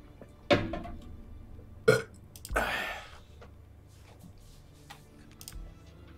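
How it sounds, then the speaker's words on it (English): A player burps into a microphone during Sniper Elite 5 gameplay, with a few short bursts standing out against quiet game background. "Did you hear my burp?"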